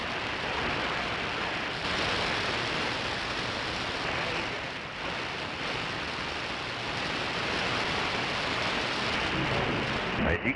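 Steady, dense rainfall hisses continuously, fairly loud and close, with no voices.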